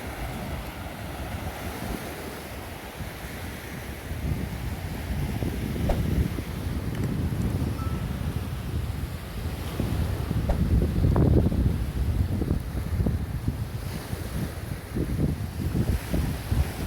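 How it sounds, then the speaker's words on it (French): Gentle, fairly calm sea waves wash steadily along the shore at Benidorm beneath a constant rush of wind, with soft splashes rising and falling throughout. "La mer est assez calme, légèrement quelques petites vagues."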